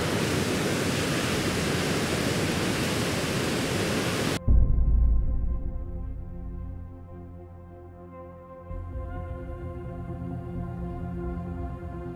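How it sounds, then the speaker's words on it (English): Roaring broadband rush of the Falls of Foyers waterfall near Loch Ness, loud and steady, then cut abruptly to a quieter scene with a low rumble and faint tonal hum. "this is a seriously impressive waterfall."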